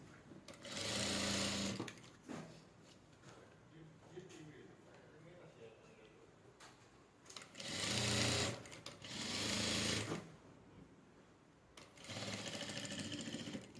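A sewing machine stitches a fabric lining in three short bursts, fast and rhythmic, separated by quieter pauses where a person talks softly.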